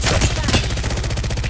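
Rapid gunfire in a video game shooter, a steady stream of loud, close shots crackling throughout with no pauses.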